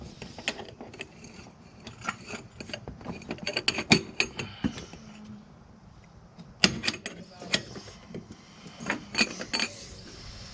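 A wrench ratchets out ball joint bolts on a car's suspension, giving irregular clicking bursts and metallic clanks up close, with short quiet gaps between rounds of turning.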